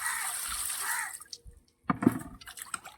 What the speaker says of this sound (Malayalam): ഇനി നമുക്ക് നല്ല വെള്ളത്തിൽ കഴുകാം